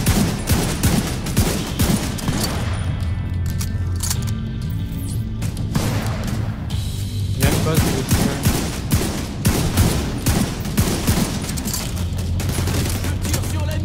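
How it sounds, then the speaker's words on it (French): Rapid bursts of gunfire from The Division 2, with dense automatic volleys and separate loud shots firing repeatedly throughout, and someone talking briefly between them. "Je tire sur l'ennemi."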